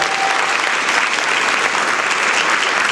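Steady applause from an audience honoring council members at a Saturday morning Bronx food summit, dense and continuous from start to finish with no gaps.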